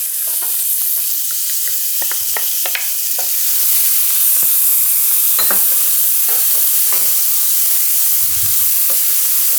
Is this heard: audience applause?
no